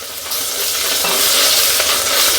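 Ginger garlic paste fries loudly in a pan for biryani, a close, dense and continuous sizzle with faint stirring scrapes underneath and no voices.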